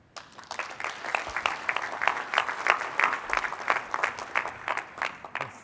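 Audience in a conference room breaks into sustained applause, dense clapping building and holding steady for several seconds with no voices over it.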